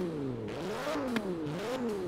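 An Audi RS6 with a twin-turbo V10 in Forza Horizon 4 revs quickly up and down several times, its engine note rising and falling in short sweeps, no talk over it.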